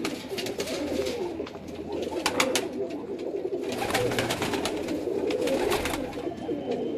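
Pigeons coo in a loft in Multan, soft low repeated cooing calls mixed with brief flutters and sharp taps, moderately close and steady, with no talk.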